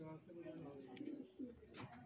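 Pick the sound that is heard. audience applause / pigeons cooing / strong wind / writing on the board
pigeons cooing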